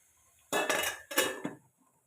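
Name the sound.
stirring beetroot palya in a cooking pan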